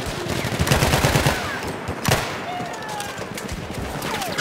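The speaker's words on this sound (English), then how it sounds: "There! Enemy machine gun!" Enemy machine gun firing in Battlefield 1, loud sustained rattling bursts of automatic fire close by, with a sharp crack midway and continuous battle din throughout.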